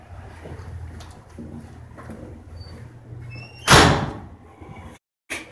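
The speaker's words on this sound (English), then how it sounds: "The door directly in front of Eric can be seen slamming shut without anybody in sight." A door slams shut in an empty corridor, one sharp loud bang standing out from low hallway rumble, followed by a brief silence and a faint knock.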